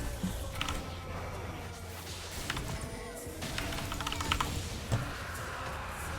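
Fast, uneven clatter of a computer keyboard during a League of Legends match, the keys struck in busy bursts close to the microphone over a steady game-audio bed.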